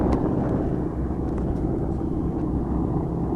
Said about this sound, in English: That P-36 with the U.S. Navy markings, he wants a piece of that zero. Here he comes now.